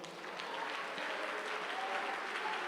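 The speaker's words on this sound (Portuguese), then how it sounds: "Aplauda o Senhor Jesus." A church congregation claps together during a worship service, an even, continuous wash of applause at moderate distance with faint voices mixed in.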